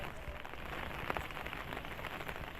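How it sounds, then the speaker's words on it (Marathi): Heavy rain in Ambernath and Ulhasnagar patters steadily on a hard surface, a dense, even wash of drops with occasional sharper splashes and no voices. "अंबरनाथ आणि उल्हासनगरमध्ये जोरदार पावसानं हजेरी लावली आहे"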